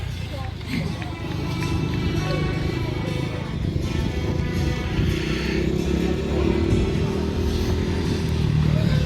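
A quad bike's engine drones and revs steadily throughout a stunt display at an outdoor show, with a commentator talking over it and a crowd in the background.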